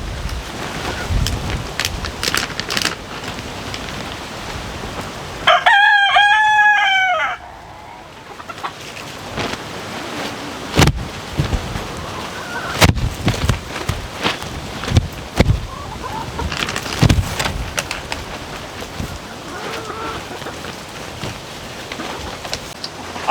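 Backyard laying hens cluck and a rooster lets out one loud, clear crow partway through, with scattered clucks and rustling outdoors before and after, plus some wind.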